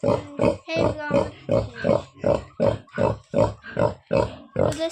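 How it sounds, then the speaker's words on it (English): A mother pig in a pen grunts and oinks in a steady series of about a dozen close, loud, rhythmic grunts, each short and evenly spaced. "So this is the mama pig."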